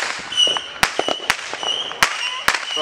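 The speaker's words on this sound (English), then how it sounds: "Bro, how many fireworks you can light off them over there forever?" Fireworks being set off outdoors, with several sharp cracking bangs at irregular intervals between smaller pops and crackles, fairly close.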